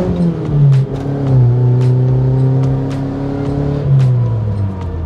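A Mitsubishi Eterna with an aftermarket exhaust revs and accelerates through several gear changes, a deep throaty exhaust rising and dropping in pitch, heard from inside the car.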